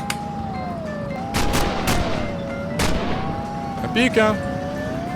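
Gunshots in a video game, a few sharp broadband cracks spaced about a second apart over a steady sirening tone, with a voice speaking briefly near the end.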